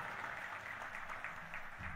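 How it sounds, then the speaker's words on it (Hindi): An audience at a devotional gathering applauds loudly in thanks to three brothers, with steady, dense clapping that runs continuously throughout. "तीनों भाइयों को जोरदार ताली बजा के धन्यवाद दो"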